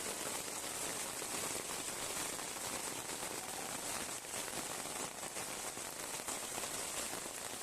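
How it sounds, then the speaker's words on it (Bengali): Heavy afternoon rain pours steadily onto surfaces outdoors near a chicken shelter. It makes a dense, loud, continuous hiss of drops with no voices. "এই যে দেখেন বিকেলের দিকে প্রচুর বৃষ্টি হইতেছে"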